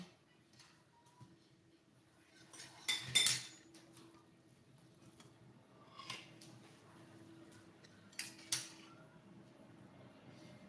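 A spoon clinks against dishes during simple breakfast cooking, with scattered light metallic taps and one brighter clink cluster early, then a couple more later over quiet kitchen background.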